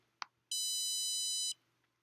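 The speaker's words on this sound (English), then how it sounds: "So let's change the frequency of the buzzer," A buzzer wired to a Raspberry Pi Pico sounds one steady, shrill electronic tone lasting about a second, preceded by a small click, close and clear with no voices.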